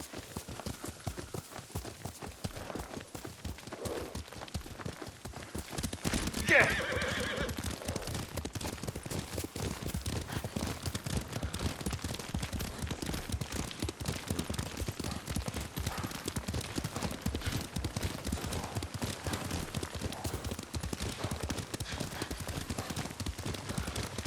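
Rapid, rhythmic clip-clop of horse hooves at a steady gallop in the video game Ghost of Tsushima, continuing throughout, with a brief sharp metallic ring partway through.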